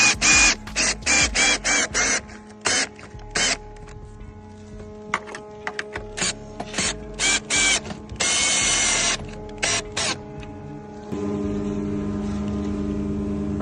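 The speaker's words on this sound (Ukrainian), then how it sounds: "Для того, щоб закрутити болт самокрут до секції, потрібна магнітна головка на 13." A power tool with a 13 mm magnetic socket drives a self-tapping bolt into a metal section of a 7 by 5 gazebo, in repeated loud bursts of whirring with brief pauses, ending in a steadier hum.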